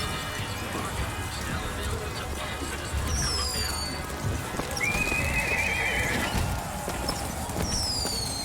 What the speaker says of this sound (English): Equus Mechanical, the automatic stallion, the horse of the future, today.